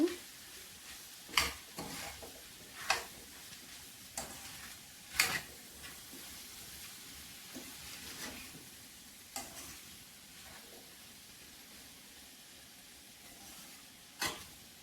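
Chickpeas and mint leaves being stirred and mixed in a pan, with spoon scrapes and clacks recurring every second or two over a soft, steady sizzle.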